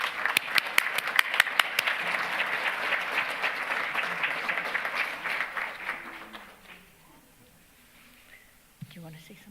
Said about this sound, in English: Please join me in giving Perry a round of applause